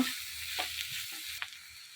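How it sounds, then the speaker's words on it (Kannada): Grated coconut frying with onions in a pan, a soft steady sizzle with a few brief stirring scrapes, close and fairly quiet, no voices. "ಆ ಕಾಯಿ ತುರಿನೂ ಸಹ ಹಾಕಿ ಹೀಗೆ ಇದರಲ್ಲಿ ಫ್ರೈ ಮಾಡುವ"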